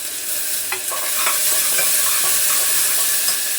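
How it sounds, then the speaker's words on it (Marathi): Bay leaf, tomato and coriander fry in hot oil with onion, giving a loud, continuous hissing sizzle and a few light stirring clicks on top. "तमालपत्र 1, त्याबरोबरच थोडासा टमाटा, कोथिंबीर पण तेलामध्ये घालते"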